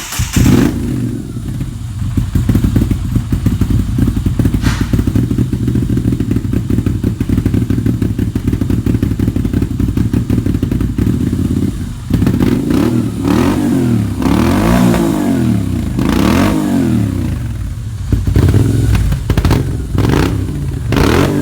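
A Moto Guzzi Stornello motorcycle with a drilled muffler tip and intact packing runs steadily and loud and close, its exhaust note rising and falling through several revs over about twenty seconds, with no talk.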